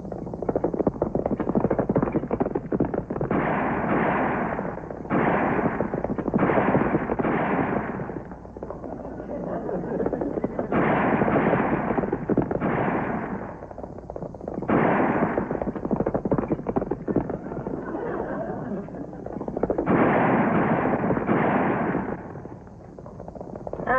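Gunfire from a western movie playing on a television fills the room with repeated rough bursts of shots and action noise, coming in waves over about twenty seconds at a steady, fairly loud level.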